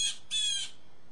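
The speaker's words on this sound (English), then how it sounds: "That's the cat bird, folks." Gray catbird giving two loud, harsh squawking calls close by, each lasting about a quarter second with a short gap between, with no other sound.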